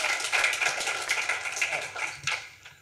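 An audience claps at a public forum on democracy, inequality and jazz improvisation. The applause is a dense, steady patter of many hands that carries on for about three seconds and fades slightly toward the end.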